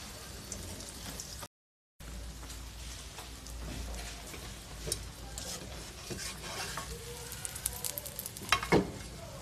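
A Padang-style egg omelette, loaded with mixed vegetables, sizzles steadily in a frying pan, with a few louder crackles and spatters near the end.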